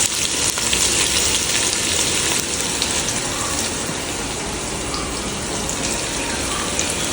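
Sliced onions, five large ones, hit hot oil in a pan and sizzle loudly and steadily, a dense continuous frying hiss with faint stirring, no voices.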